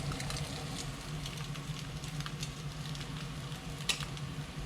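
Eggs frying in leftover bacon fat and bacon bits in a pan, a steady close sizzle with scattered crackles and pops running throughout, one sharper pop near the end, with no talking.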